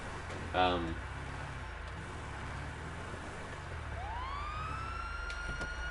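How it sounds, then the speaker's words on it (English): A police car siren in GTA winds up and rises in pitch over a low engine hum, following a brief horn blast, moderately loud in a steady background. "You would turn on your sirens."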